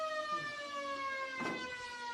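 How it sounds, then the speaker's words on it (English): A siren sounds to end an Australian football match in the Eastern Districts Football League, a steady sustained wail heard clearly at a distance over faint crowd noise. "The siren sounds."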